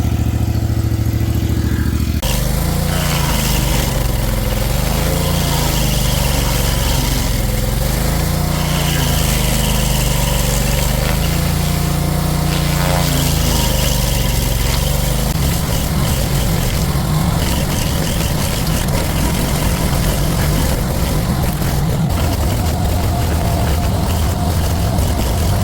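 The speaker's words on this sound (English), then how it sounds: "I can't pull this stump out, so I'm just gonna grind it." A stump grinder grinds down a decent-sized tree stump with a loud, continuous engine drone that rises and falls in pitch. Partway through it turns into a rougher, broadband grinding roar, all close by with no talk.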